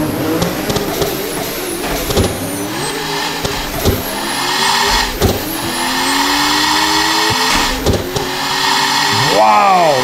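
A 3000 HP turbo LSX GMC Suburban launches in Assetto Corsa. The engine roars loudly and rises in pitch through the gears, with sharp shifts and other cars revving nearby. Someone talks over it.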